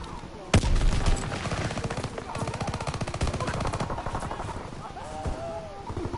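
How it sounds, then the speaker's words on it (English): Rapid machine gun fire from a strafing run in a PS4 war game, dense bursts of rattling shots with a loud impact near the start, steady and close throughout, with faint voices underneath. "Fighter pilots ready for strafing run."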